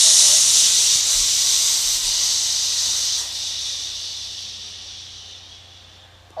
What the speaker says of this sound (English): as you exhale, you're going to hear the airstream because you're going to exhale at the end with a shh